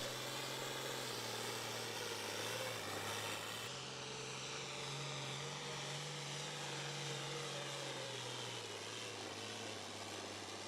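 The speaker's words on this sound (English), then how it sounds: "Seemed like he ran a ton of RPM down the track and was able to spin out pretty hard at the end." A pulling truck called the Misfit Mistress runs hard at high RPM, dragging a sled down the track at a truck and tractor pull. The engine drones loudly and without a break throughout, its pitch shifting only slightly, with no talk over it.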